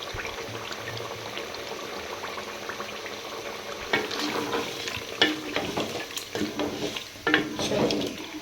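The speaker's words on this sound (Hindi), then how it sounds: "अभी थोड़ा सा इसको घी में अच्छी तरह से फ्राई करना है चिकन को।" Chicken fries in hot ghee with a busy, bubbling sizzle, joined midway by scraping and stirring sounds up close.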